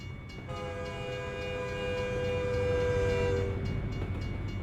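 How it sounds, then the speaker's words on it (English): A freight train rolls by in American Truck Simulator's Texas setting, its horn sounding a long, loud multi-tone chord over the steady rumble of rail cars, with the rolling noise continuing after the horn stops. "I'm actually looking forward to this train."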